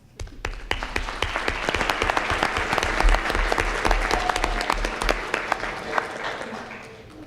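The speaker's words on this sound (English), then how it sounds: "Now we can clap." Audience clapping at a school board meeting fills the room with loud, dense applause that holds steady and tapers slightly near the end, with some voices underneath.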